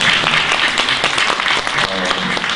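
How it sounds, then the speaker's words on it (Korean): An audience at a forum Q&A event applauds, giving a dense, steady wash of many hands clapping throughout. "우리 세 분께 감사의 박수 한번"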